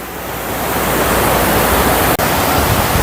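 Steady, loud rush of flowing water from a river in quiet rural countryside, continuous broadband noise close to the microphone with no talking.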